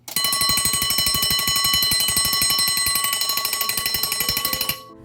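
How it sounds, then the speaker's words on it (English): A vintage wind-up alarm clock from a grandfather's collection rings loudly with a rapid, metallic hammering on its bells for about five seconds, then stops abruptly. "I do know that the alarm works, and I'll let you hear what it sounds like"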